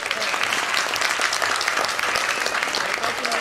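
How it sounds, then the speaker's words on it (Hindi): A crowd claps steadily through a school annual function, brief continuous applause at moderate loudness with no talking on top. "तो एक बार तालियां हो गए इनके लिए।"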